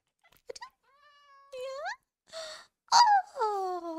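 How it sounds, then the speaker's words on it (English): Cat meows from a Minecraft village, several short rising and falling mews in quick succession, fairly close and clear, with brief breathy sounds between them. "Oh, such a pretty kitty!"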